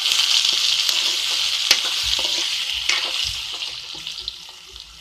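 Potato pieces fry in a kadhai with a loud, steady sizzle and bubbling oil. The crackle fades slightly toward the end, and a few clinks of stirring cut through it.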